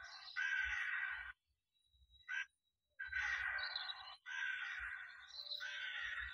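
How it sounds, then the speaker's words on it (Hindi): A crow caws at night, giving a series of loud harsh calls with short pauses between them, close by against an otherwise quiet background. "काऊ साउंड"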